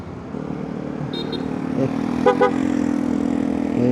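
A Vespa GTS scooter fitted with an Akrapovic exhaust rolls past from behind, its low engine hum building under steady wind rumble from a helmet-mounted mic, no voices.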